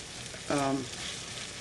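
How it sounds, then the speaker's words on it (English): Onions cooking in a pan for French onion soup, a soft continuous sizzle with a short scraping stir partway through, fairly quiet and close. "I'm continuing to cook and stir, separating the layers of the onions as I go"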